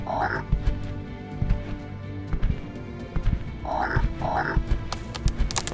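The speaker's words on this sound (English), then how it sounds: "towards the sound of the frog's croaks" Frog croaks sound in short paired calls, twice, among clattering and thumping noises in the background.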